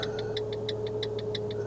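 A Fiat 500 Sport's turn signal indicator ticks in an even, brisk rhythm, about ten clicks in under two seconds, clear above a steady low engine hum, with no talk.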